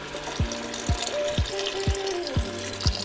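Water pours into a pot of Greek-style stewed peas and potatoes with tomato sauce, a steady close splashing stream marked by a series of regular low glugs.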